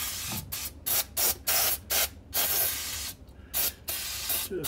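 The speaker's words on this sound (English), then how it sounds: "So some carb cleaner that's going to give me probably skin cancer or something" Carb cleaner sprayed in repeated short hissing bursts onto a carburetor removed from a 1959 MotoMower Shark 5 riding mower, with brief pauses between squirts, close and fairly loud.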